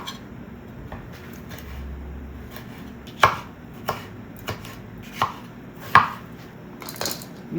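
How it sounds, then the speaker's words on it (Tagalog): Washed vegetables being chopped into small pieces with a knife on a cutting board in a home kitchen for shepherd's pie: sharp, separate knocks at an uneven pace, close and clear, over quiet room tone with no talking. "I-chop lang natin na maliliit."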